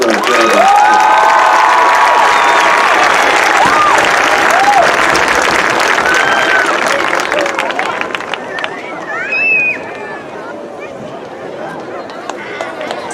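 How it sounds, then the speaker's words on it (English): A crowd at a high school graduation ceremony breaks into loud applause with cheers and whoops, fading gradually over several seconds as a few shouts linger. "One more round of applause for this round."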